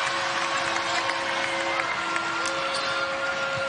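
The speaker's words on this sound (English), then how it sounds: "Crowd erupting, waiting for their mullet sighting." A crowd cheers and applauds at a Kansas vs Tarleton State college basketball game, a steady wash of arena noise throughout.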